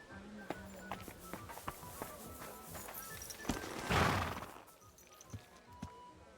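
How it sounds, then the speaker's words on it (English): Distant, soft hoof clip-clops and a horse's whinny in the Kingdom Come Deliverance 2 video game, scattered footsteps with a swell of noise midway, fairly faint overall. "that looks like a bloody expensive horse"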